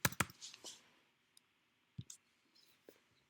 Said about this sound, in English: Have to type in my password.